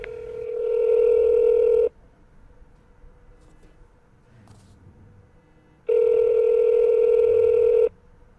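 A Google Pixel 3 rings with an incoming call, two loud, steady electronic ringtone bursts about two seconds long each, separated by a quiet gap of several seconds.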